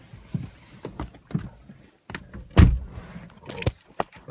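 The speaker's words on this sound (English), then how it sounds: "Close the door." Someone closes the door of a 2002 Audi TT ALMS, with a single solid thump amid faint interior shuffling and small clicks.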